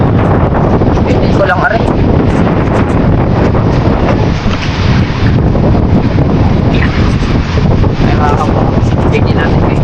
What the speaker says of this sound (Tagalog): Tatangay ng hangin.